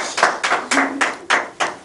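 Several loud, distinct bursts of hand clapping close by, spaced in a quick uneven rhythm as a small audience applauds a performer being welcomed.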